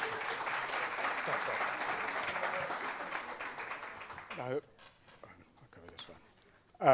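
Audience applause at a governance panel discussion, a few seconds of dense clapping that fades out, followed by quiet room noise and a voice beginning to speak.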